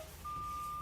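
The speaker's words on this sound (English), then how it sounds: "my warning light and buzzer came on" Low air pressure warning buzzer in a truck cab during an air brake test, sounding as a faint, steady electronic tone that starts partway through and holds, over low cab rumble.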